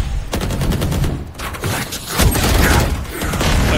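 Rapid bursts of video-game gunfire aimed at insects, a dense run of shots and booms filling the whole stretch at close, loud level, with no talk over it.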